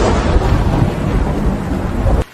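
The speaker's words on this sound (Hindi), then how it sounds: "अचानक से बहुत तेज बिजली कड़की और बरसात शुरू हो गई।" Loud, rumbling thunderclap crashes over steady heavy rain, a dense broadband roar that fills the whole moment before cutting off abruptly near the end.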